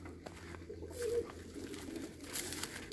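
Pigeons coo softly in a loft, low repeated murmuring calls close by under some faint rustling and background noise.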